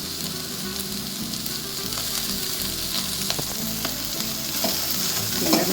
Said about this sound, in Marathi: लसूण थोडा 2 मिनिटं परतूया आपण. त्यानंतर शिमला मिरची,